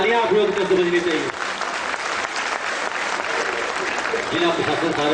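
Loud, dense applause from an audience at a Chhapra district administration cultural event after a dance performance, swelling for about three seconds between stretches of talk at the start and end.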